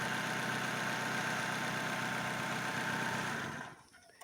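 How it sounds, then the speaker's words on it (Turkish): A car engine idles after a throttle body cleaning, with a steady mid-pitched hum and rumble close by, then it cuts out near the end and falls quiet. "Evet gördüğünüz gibi arkadaşlar aracımız çok daha kolay çalışmaya başladı."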